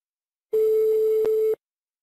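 A single electronic telephone ringback tone during a prank call, one steady pure beep about a second long, clear and close, with silence before and after.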